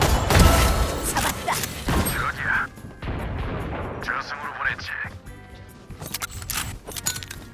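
Weapon reloading in a tactical shooter game, with mechanical clicks and metallic clacks of the gun amid game effects, a loud burst at the start and players talking over it.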